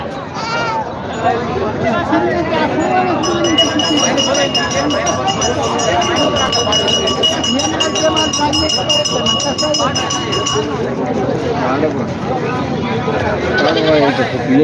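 Goats bleat repeatedly amid a busy crowd at the Parbhani goat market, with people talking throughout and a steady high tone running through the middle.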